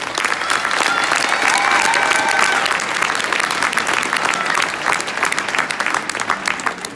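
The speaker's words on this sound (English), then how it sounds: "So give these kids another round of applause." Loud applause for the kids at a junior high school band Christmas concert, a dense crowd clapping, swelling early then gradually thinning toward the end, with faint murmurs mixed in.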